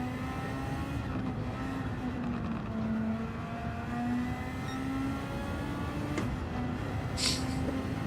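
A Honda race car engine in a racing video game drones steadily through a time trial, its tone rising and dipping with throttle and gear changes, loud and continuous with no voices.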